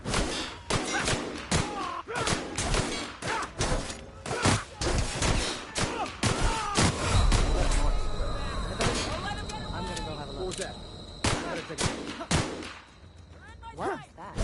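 Rapid, sharp gunfire from the video game The Outer Worlds crackles in irregular bursts with heavy thuds, continuous over the stretch, while voices call out amid the shooting.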